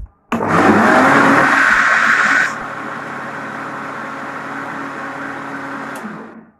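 A blender whirs loudly, blending a thick strawberry juice, then drops to a lower steady hum for several seconds before cutting off.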